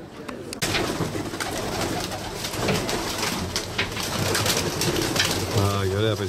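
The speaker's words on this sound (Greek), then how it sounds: "Ωραία περιστέρια κάτω, ε." Pigeons coo in soft, repeated throaty calls at a Greek pigeon club release event in South Attica, close and fairly loud over a busy outdoor bustle with people talking nearby.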